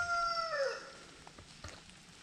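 A young chicken nearly the size of an adult crows once, close and loud, in a rising, scratchy cry. It breaks off after about half a second, leaving quiet background with faint rustles.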